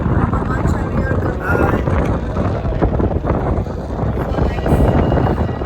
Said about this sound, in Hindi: यहाँ पे पीछे मुझे मस्त हवा चल रही है